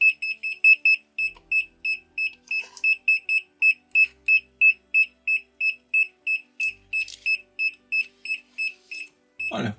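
Rapid, evenly spaced electronic beeps from a Minipa ET-2517A multimeter held against a power outlet repeat continuously, crisp and close, with faint handling noises and no speech.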